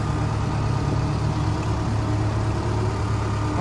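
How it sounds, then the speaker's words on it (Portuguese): A tractor lowering a boat into the water runs with a steady, low, heavy engine drone at moderate distance, continuous throughout. "Tem um trator ali na frente, ó, descendo com a lancha"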